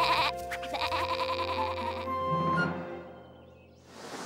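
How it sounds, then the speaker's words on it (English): A cartoon sheep in a children's Little Bo Peep story lets out a long, wavering bleat, nearby and clear, with no speech over it. "Sheepies, where are you, my little sheep?"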